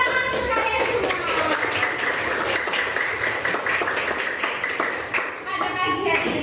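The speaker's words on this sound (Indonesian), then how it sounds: "tepuk tangan untuk kalian semua" A school class claps together in lively, sustained applause, with a few voices cheering over the clapping.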